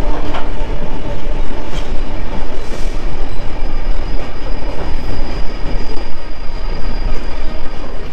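The Kaziranga Express passenger train runs along the track loudly and continuously, its wheels rumbling and clattering, with occasional faint squeals and no voices.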